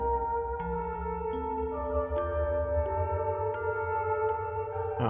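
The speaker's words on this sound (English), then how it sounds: "I might remember more if I play it on the radio piano." A radio piano in the Fatal Frame horror game plays a slow six-note melody, each clear tone ringing into the next over a low ambient drone, with no voices.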